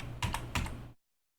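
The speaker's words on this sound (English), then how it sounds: "you shouldn't have any trouble typing in the word verify" Computer keyboard typing in a short burst of quick, close keystrokes, no voices, ending abruptly in silence.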